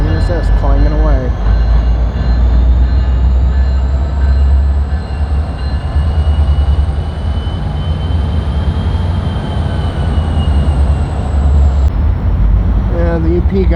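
Train cars in a rail yard rumble loudly and steadily, with metallic clanging and high wheel squeals near the start and end, and people speak over the noise.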